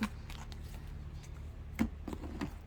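Tarot cards are shuffled by hand during a love reading, giving quick papery riffles and soft slaps in a quiet room, with one louder shuffle midway.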